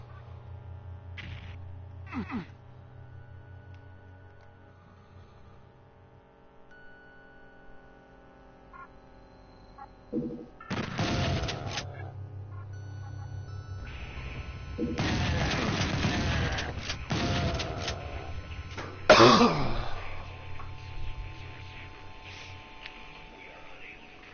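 Chain gun fire in a shooter video game: sparse early pops, then loud, dense bursts of rapid gunfire around the middle and end, with sharp impacts cutting through quieter background hum.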